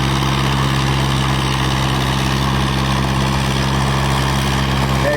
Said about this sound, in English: As you can see, that tractor's pulling heavy. They're making use of every bit of that 37 horsepower coming out of the P6.